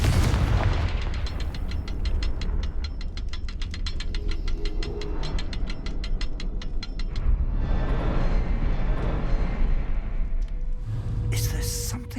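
A Confringo fire spell in Hogwarts Legacy blasting with a loud booming burst, followed by rapid rattling crackle and rumbling mechanical noise, dense and continuous with game sounds.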